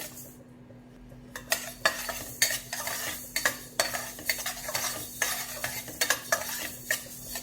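Fenugreek seeds are dry roasted in a pan for sambhar masala, with a spoon or spatula scraping and stirring in repeated, fairly quiet strokes and a faint steady hum beneath.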